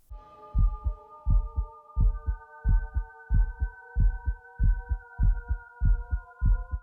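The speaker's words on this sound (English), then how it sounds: "the way the song begins, with the anxiety of an anxious heartbeat" Anxious heartbeat opening a music video, a loud, close, steady lub-dub thumping pulse repeating about ten times over a sustained eerie synth hum that thickens partway through.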